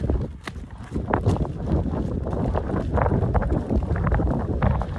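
Blustery wind buffets the microphone outdoors, a steady rumbling roar with scattered knocks and clicks throughout.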